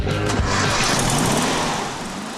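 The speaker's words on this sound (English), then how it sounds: "At the back, the most powerful of the Beetle's engines hums" A Volkswagen Beetle engine, the most powerful of its range, mounted at the rear of a vintage Karmann Ghia, hums steadily and loudly at a mid pitch, easing off slightly toward the end.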